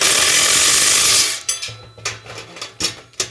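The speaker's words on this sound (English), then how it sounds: "So now I'm going to get that wrench on there, and I can just drive it in under power, and it's just much faster." Power wrench driving a bolt during chassis assembly: a steady broadband whir for over a second, then a series of short, sharp ratcheting bursts and clicks, close and loud with no talking.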